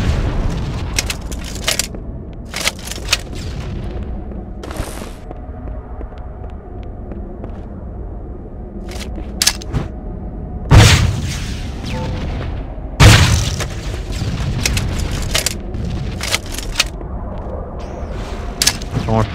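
Grenade explosions in a team video game, several deep booms and sharp blasts rising above a continuous bed of game noise and gunfire, with two especially loud hits partway through.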